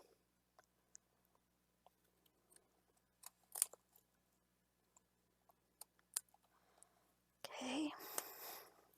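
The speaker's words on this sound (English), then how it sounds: "Okay, and then I'm going to cut the edges off." Faint, close snips of scissors trimming the edges off a homemade Christmas craft piece, scattered crisp clicks in a quiet room, ending in a louder burst of rustling.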